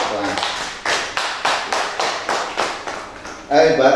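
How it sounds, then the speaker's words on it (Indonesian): An audience claps together in a steady, rhythmic pattern, with about seven sharp, evenly spaced beats. A voice breaks in loudly near the end. "Tepuk tangan semua."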